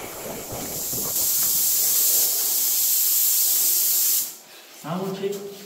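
A loud, steady hiss from a combined paint and plaster sprayer machine spraying Sigma paint runs for about four seconds, then cuts off, followed by a brief burst of talk.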